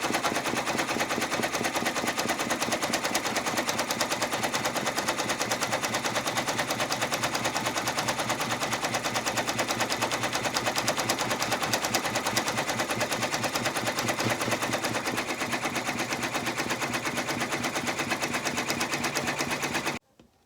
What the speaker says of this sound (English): now I'm going to send it back to the machine and let it do the final satin stitches